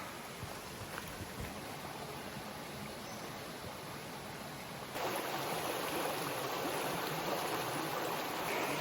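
A brownish, swollen creek in the hinterland runs with a decent flow, giving a steady broadband rush of water that grows noticeably louder and nearer about halfway through, with no voices.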